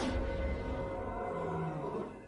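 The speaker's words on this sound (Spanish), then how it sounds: "El rugido de un león no solo se oye," A lion roars as it approaches, a deep drawn-out growling roar that holds steady then fades slightly at the end, heard alone in the African wild.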